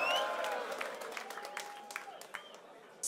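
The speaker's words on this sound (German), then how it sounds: "Bitte einmal Applaus für Phil Urban gegen Muro!" A crowd at a freestyle rap contest in Dortmund applauds after the two battling rappers are introduced, clapping and cheering that fades gradually over a few seconds, moderately distant, with a brief loud burst at the very end.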